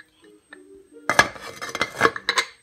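A metal lid settles onto a cooking pot of homemade cow foot soup, a cluster of clanks and rattling clinks after a few soft knocks, close and fairly loud.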